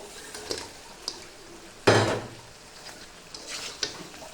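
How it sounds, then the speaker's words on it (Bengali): Fried puti fish drop into a pan of cooked spiced masala with one sharp clattering thud, surrounded by faint utensil clinks and light scraping nearby. "এখন দিয়ে দিব ভেজে রাখা মাছগুলা।"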